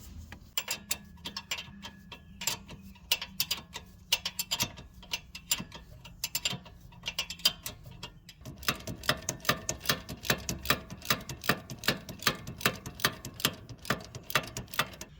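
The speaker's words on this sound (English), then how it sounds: "Now you just need to tighten up these two 18mm bolts" A hand ratchet tightening 18mm brake caliper bolts on a 2015 Chevrolet Malibu rear brake, with rapid rhythmic clicking strokes, quiet and close, speeding into a denser run of ticks partway through.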